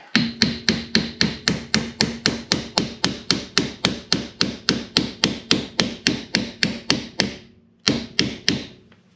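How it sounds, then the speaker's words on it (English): A hammer tapping a custom steering part into place on a Dodge truck under restoration: a long, steady run of about two dozen sharp, evenly spaced metallic blows, a brief pause, then a few more strikes. "I think I just tap this like this. It should go in there."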